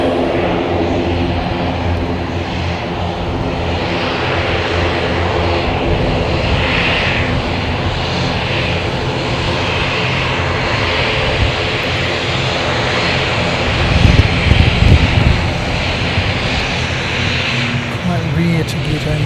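ATR turboprop coming down to land on a grey, overcast day, a steady droning engine hum with a low rumble swelling near the end, with voices talking over it.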